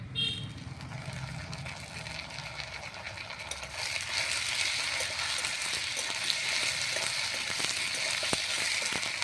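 Raw garlic, onion and ginger paste frying in oil in a pan after fried potatoes, a steady broadband sizzle that swells louder after a few seconds and runs continuously with faint clicks of stirring.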